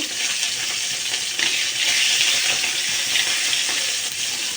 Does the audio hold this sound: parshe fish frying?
yes